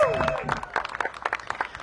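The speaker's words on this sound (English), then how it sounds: "A round of applause for all the organizational leaders." A crowd at an outdoor Pride Month flag raising applauds organizational leaders, with brief scattered claps fading in after a voice speaks.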